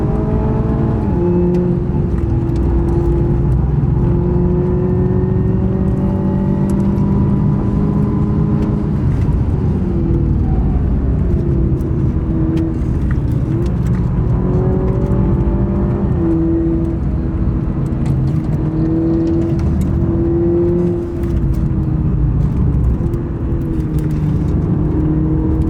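Toyota Supra with a 4-cylinder engine driving on the Nürburgring, heard from the cabin as a steady, loud engine drone whose pitch rises and falls through gear changes and corners, with continuous road rumble underneath.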